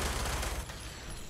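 Gunfire from enemy robots in the video game Fallout 76, heard as a dense, loud burst of rapid shots that fades into a softer, noisy rumble.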